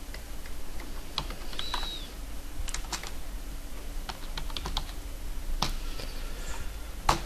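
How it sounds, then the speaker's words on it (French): Computer keyboard keys, including the down arrow, pressed while filling in a library database table: scattered crisp clicks and short bursts of taps at irregular intervals, close up, with no talking. "appuyez sur la flèche du clavier qui descend"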